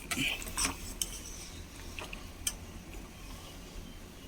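Ada rice flakes are stirred in boiling water in a pot, giving a few faint metal spoon clinks and scrapes against the pot, clustered at the start then sparser, with no talking.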